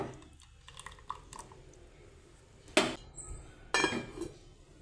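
Clatter of a plate set over a pot of simmering sambar in a home kitchen: a few sharp metallic clinks, two loud ones near the end, over faint background noise.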